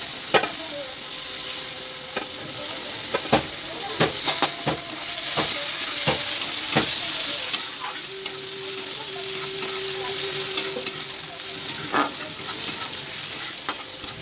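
Chopped onions fry in oil over a tempering of cumin, dried red chili and bay leaf left from frying fish heads, with a steady close sizzle punctuated by sharp clicks and scrapes of a stirring spoon against the pan.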